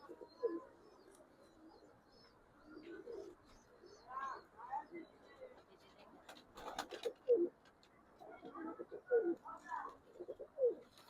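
Gorra pigeons cooing in a loft in Bangladesh, soft repeated coos and murmurs coming in several bursts against low background noise.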